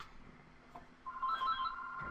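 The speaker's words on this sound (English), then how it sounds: "And my phone's ringing." A phone rings in a quiet room, its warbling electronic ring rising in the second half, moderately loud and close, with no talking over it.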